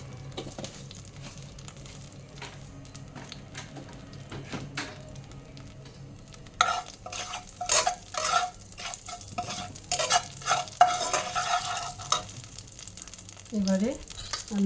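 Black cumin seeds (kalonji) sizzling in hot oil in a pan after pointed gourd is taken out, with steady stirring and scraping that turns louder and busier in the second half.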